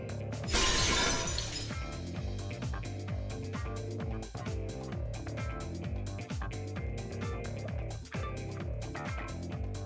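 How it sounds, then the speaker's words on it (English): Glass shatters loudly in a sharp burst at the start of a Fate/Extra game scene, then the crash gives way to steady dramatic music that carries on for the rest of the clip. "The sound of breaking glass is accompanied by a light cutting through the gloom."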